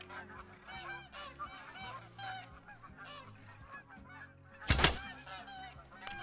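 Geese honking repeatedly in a loose, overlapping chorus, fairly near, during a goose hunt in open country, with a sharp loud burst near the end.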